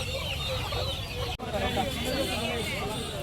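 Country chickens cluck among the bustle of the Friday market at Pallavaram, Chennai, with steady crowd chatter and voices talking throughout.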